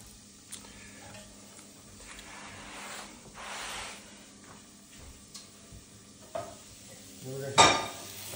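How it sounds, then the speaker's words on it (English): Brussels sprouts sizzle and crackle quietly in a flat-bottomed pan, a soft steady fry with occasional scraping stirs and one sharp clink of metal near the end. "Our Brussels sprouts, which are still sizzling"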